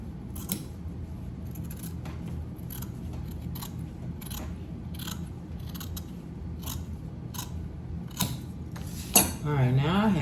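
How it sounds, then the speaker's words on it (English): Scissors snip through fabric quilt squares down the middle of a seam while making a pink half-square-triangle throw, giving a series of short, crisp, moderately close cuts that repeat steadily over a low room hum. "Now we're gonna cut right in the middle of that seam, those lines,"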